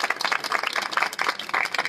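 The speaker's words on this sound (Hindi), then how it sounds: "एक बार आपके लिए तालियां।" A crowd claps in dense, steady applause at a Modicare success seminar, filling the whole stretch without pause, with no clear talk over it.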